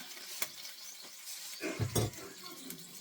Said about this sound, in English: add the chicken broth to the skillet and scrape any little residual stuff that you may have